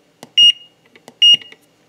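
A Fieldpiece SVG3 vacuum gauge gives two sharp electronic beeps as its alarm button is pressed, each loud, short and close, with faint button clicks around them.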